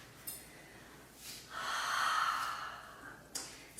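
A single slow, deep breath taken while standing during a short yoga shoulder-stretch session: a soft airy inhale swelling into a long, steady rush of air close to the listener, with no talking over it.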